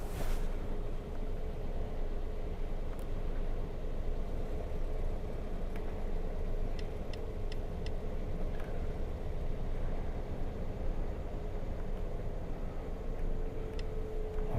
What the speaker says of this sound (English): These ones are a bit noisy because of the common rail direct injections.